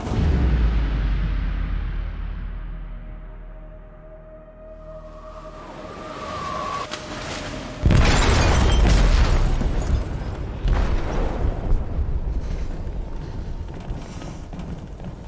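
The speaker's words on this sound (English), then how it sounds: "They detonated an explosive in the hold." A single heavy explosion goes off in a ship's hold in Detroit: Become Human, a sudden deep boom after a low rumbling lead-in, followed by sustained roaring, crashing debris and metallic groans.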